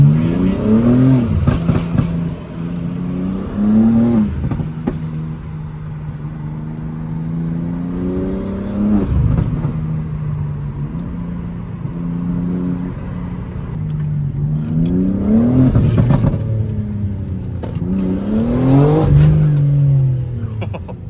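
A tuned BMW M3 engine revs repeatedly, climbing and falling several times between steadier idling stretches, loud and close with no talking over it.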